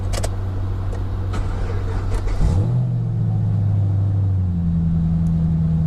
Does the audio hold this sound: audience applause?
no